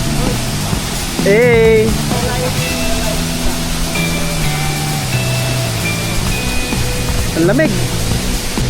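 Malabsay Falls in Naga, Camarines Sur, pours as a constant broad roar of falling water close by, with voices talking and exclaiming over it.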